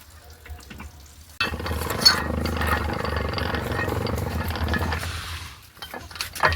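A hand-cranked machine rolls rubber sheets, starting suddenly with a steady clattering, grinding mechanical churn and ratcheting clicks that run for about four seconds before fading back to quiet.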